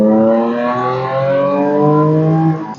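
An Audi S4 pulls hard under acceleration in comfort mode on the road, its engine note climbing steadily in pitch, loud and close from inside the cabin, with no talking.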